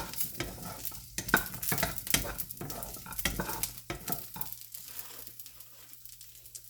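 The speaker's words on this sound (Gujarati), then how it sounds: "અને બ્રાઉન કલરના થાય ત્યાર સુધી શેકવાના છે આપણે" Bitter gourd (karela) pieces roast in a pan until brown, with loud bursts of sizzling and rustling scrapes as they are stirred, easing to a quieter sizzle toward the end.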